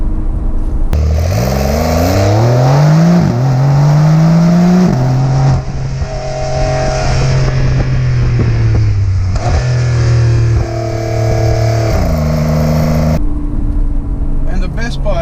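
Turbocharged engine of a Porsche 911 (992) Carrera S revving loudly and continuously, pitch climbing through gears then holding steady with several rises and drops, close and dominant throughout.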